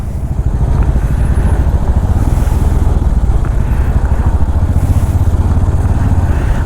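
A motorcycle engine drones loud and close with a throbbing rhythm on a rough, broken mountain road in Sikkim, while faint rattles hint at a bumpy ride.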